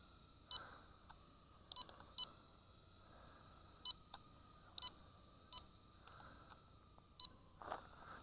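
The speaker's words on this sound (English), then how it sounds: "I don't know what that beeping is. That's probably for the camera warning" Nano pocket drone controller (Lishitoys L6058) gives short, faint electronic beeps at irregular intervals, roughly eight to ten blips over a quiet background hum.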